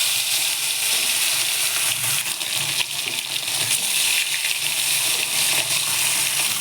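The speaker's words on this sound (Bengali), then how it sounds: "এখন আমি মাছগুলো তেলের মধ্যে দিয়ে দেব।" Koi fish go into hot oil in a heated kadai and set off a loud, steady, crackling sizzle that carries on without talk.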